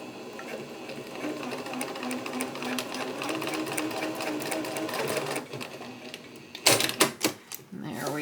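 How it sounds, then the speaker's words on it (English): A home sewing machine stitches along the outline of a snowman quilt block, its fast mechanical rattle running steadily, then a few louder clunks as it stops and the needle is set down, with soft talking over it. "I pretty much just follow the outline right inside where I want to sew. Let's do needle down."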